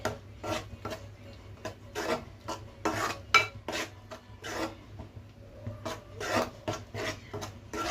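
A spoon scrapes and stirs chili powder and mutton masala through a curry in a pan, a steady run of rough rasping strokes, close and fairly quiet, with no talking.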